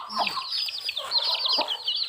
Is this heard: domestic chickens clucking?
yes